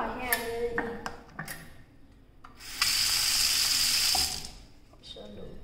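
Water running from a tap into a campsite washroom sink, a steady hissing stream for about a second and a half, framed by clicks and knocks of handling nearby.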